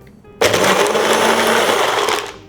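A kitchen blender whizzes cottage cheese with salt, pepper and herbs, starting suddenly into a loud, close, steady whir that runs for about two seconds before easing off.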